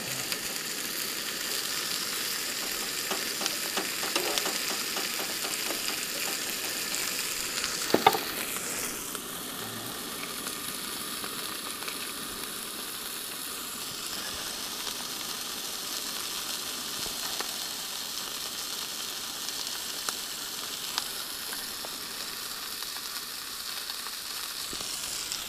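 Sausage sizzles and fries in a pan on a camp stove, with a steady, faint hiss that continues throughout and a few brief clinks of a utensil.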